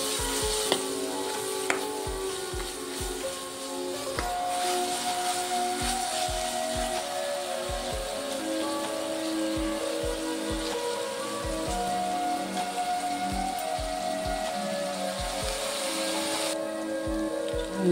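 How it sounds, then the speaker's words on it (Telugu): Onions with a spoonful of ginger-garlic paste frying in a pan for a mushroom fry, giving a steady, close sizzle like light rain, with soft stirring taps throughout. "ఇప్పుడు పచ్చివాసన పోయే వరకు ఫ్రై చేసుకోవాలి"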